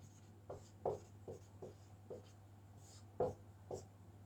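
Handwriting of Hindi notes during a dice-problem lesson, a quiet series of short scratchy pen or chalk strokes in uneven bursts over a steady low hum.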